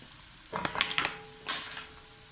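Eggs and potatoes frying in oil in a pan: a few clattering stirs and scrapes against the pan, then a sharp burst of sizzle that fades over the last second, close and moderately loud with no talking.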